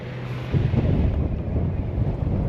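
A strong wind gust hits a sailing boat on the River Crouch, heeling it over: a low, buffeting roar that swells abruptly after a quieter start and stays loud and close.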